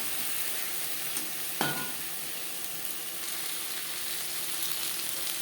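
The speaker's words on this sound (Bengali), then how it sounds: "হাই টু মিডিয়াম ফ্লেমে মশলার সাথে বেগুন বেশ ভালো করে কষিয়ে দেবো।" Brinjal being fried with spices in a pan over a high to medium flame, a steady soft sizzle with a single brief scrape of stirring, heard close and alone.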